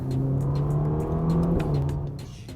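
A Ferrari Roma engine accelerates from inside the car with a rising whirring drone and a gear-change dip, then eases off toward the end, with no voices.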